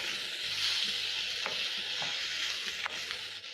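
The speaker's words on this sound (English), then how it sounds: "Then I'm going to saute until the onions are soft." Onions sauteing in a pan with MSG for a mutton dish, a steady close sizzle with occasional stirring scrapes and soft clicks, no voices.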